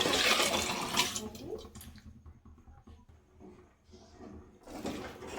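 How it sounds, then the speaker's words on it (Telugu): Washed lentils tip into a pan of fried onions with a wet splash and sizzle that settles into quieter crackling, with a voice talking over it. "ఇప్పుడు మనం వాష్ చేసి పెట్టుకున్న పప్పును అందులో వేద్దాము."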